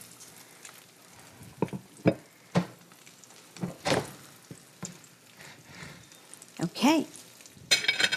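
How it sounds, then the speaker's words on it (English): Chicken cutlets fry in a pan, giving a soft background sizzle broken by louder bursts of hissing and stirring or scraping as the meat is moved, with a brief spoken word. "Now you can hear that sizzle."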